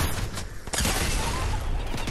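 Rapid gunfire from a weak gun in Fortnite, a dense burst of overlapping shots with a sharp loud crack partway through, close and continuous over game noise.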